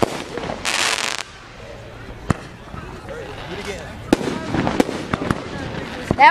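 Consumer firework launching outdoors, a brief hissing burst followed by several sharp cracks and pops at varying distances, with people talking and reacting throughout.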